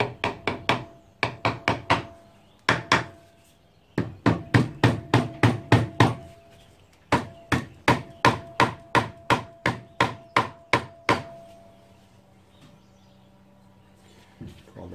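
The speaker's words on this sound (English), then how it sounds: "Right, magic hammer time. See if we can give it a little tap off." A hammer taps repeatedly on a stuck piston being removed from a Honda 250cc V-twin engine, sharp metallic knocks in quick bursts of several strikes with short pauses, close and loud.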